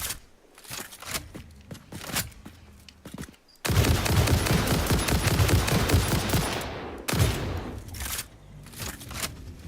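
Rifle fire in Satisfactory, a run of sharp shots followed by a dense, loud burst of rapid gunfire and another volley after a brief gap, with no talk.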